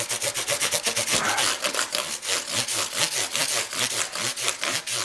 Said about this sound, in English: it's actually a polishing action. And you want to do a little bit on the corners too, to smooth those out, and the edges of the frets.